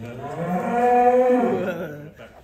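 A very large, rare European-class cow gives one long, deep, resonant moo that swells and then fades, close and loud with no talking.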